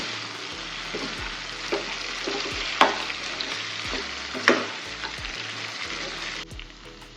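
Chicken fries in a pan with dried red chilies, sizzling steadily and close, while a spatula scrapes and stirs at intervals, sometimes alone and sometimes in a few quick strokes.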